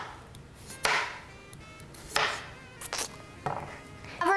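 A knife slices through a peeled vegetable on a cutting board, making several separate crisp chops spaced a second or so apart, close and fairly clear in a quiet kitchen.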